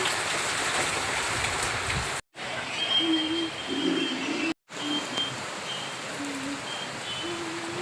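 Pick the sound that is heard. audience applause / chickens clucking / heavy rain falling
heavy rain falling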